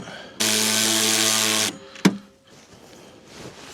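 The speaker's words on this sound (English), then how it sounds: "we're gonna use a 13mm socket to tighten the bolts down" A 13mm socket on an inside-reach ratchet tightens bolts on a Milwaukee snow blower: a loud, steady motorized whir lasting just over a second, then a single sharp click and quiet handling noise.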